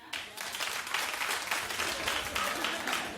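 Studio audience on a daytime talk show breaks into steady, fairly loud applause that continues evenly throughout.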